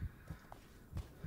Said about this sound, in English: I don't like this heartbeat.